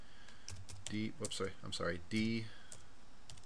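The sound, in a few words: typing a command on a computer keyboard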